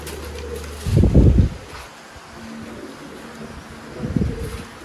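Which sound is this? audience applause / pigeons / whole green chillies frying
pigeons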